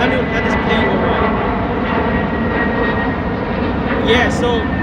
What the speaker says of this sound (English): let this plane go by